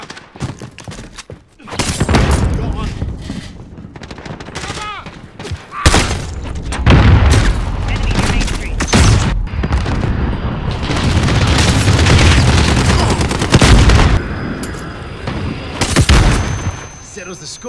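Bursts of gunfire and booming explosions from a Call of Duty Modern Warfare 2019 headquarters match, loud and dense across most of the stretch with brief lulls, mixed with game radio voices.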